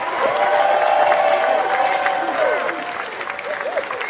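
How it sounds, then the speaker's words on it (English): A crowd at a reparations movement event bursts into loud, sustained applause with scattered cheers, and a voice speaks over the clapping as it gradually thins. "Give a round of applause for Tariq"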